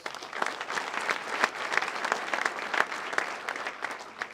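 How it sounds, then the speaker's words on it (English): Audience applause at a State of the County address, a continuous round of clapping from a crowd, moderately loud with individual sharp claps standing out across the whole stretch. "Give Chris a round of applause."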